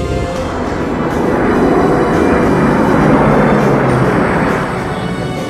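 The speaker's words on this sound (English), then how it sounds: "the B-29 superfortresses stationed in Japan carried out the first raids on targets north of the 38th parallel" Heavy four-engine B-29 Superfortress bombers drone steadily overhead in flight, a loud, dense rumbling roar that swells slightly and then eases, with no voices.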